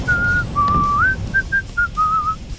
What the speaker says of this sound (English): the Thief-Taker General can be heard whistling a tune at the end of a cutscene